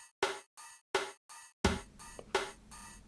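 Drum beat from music blocks in Super Mario Maker 2, a few sharp percussive hits in a steady pattern, then a denser run of beats with louder, fuller strikes, clear and close with no talking.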